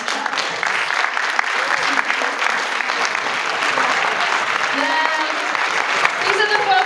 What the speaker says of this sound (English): if you will stand for a round of applause